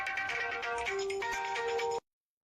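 A mobile phone rings with a melodic tone close by, playing steadily for about two seconds before cutting off into silence.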